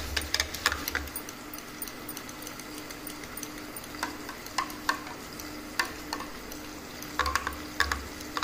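Masala being stirred into a thick batter for homemade dosa, a spoon scraping and clinking against the pot in irregular bursts over a low steady background hum.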